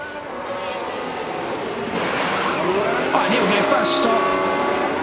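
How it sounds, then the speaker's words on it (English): A Formula 1 pit stop in the F1 Manager 24 racing game: a steady engine and crowd wash swells louder partway through, with a rising whine of passing cars, under a commentator talking. "Let's just watch this pit stop."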